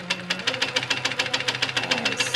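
A sewing machine stitches quilt piecing in a steady rapid run of mechanical clicks, close and fairly loud, with no talking.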